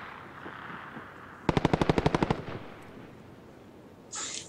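A single loud burst of about ten rapid P90 shots in a first-person shooter game, crisp evenly spaced cracks standing out over a quiet background, followed by a short faint noise.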